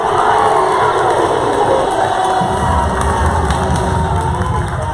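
A home crowd at a college basketball game roars and cheers loudly and continuously, with shouts and whoops rising from a dense wall of fan noise in the gym.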